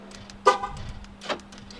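A 2002 Chevrolet Silverado pickup gives two short horn chirps during key fob pairing, the first a bit louder, heard nearby over a faint steady hum.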